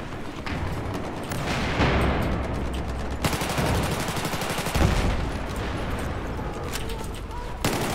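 Dense, continuous gunfire and explosions roar through a Battlefield 4 match, with rapid shots layered over heavy rumbling combat noise.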